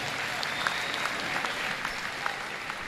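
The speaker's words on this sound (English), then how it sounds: "how about another round of applause for our wonderful educators on Educator" Crowd in a school gym applauds educators during a junior varsity boys basketball game, steady continuous clapping with a few sharper individual claps standing out, close and fairly loud, with no speech.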